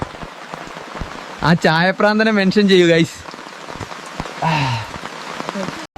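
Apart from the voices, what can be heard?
heavy rain at Bekal Fort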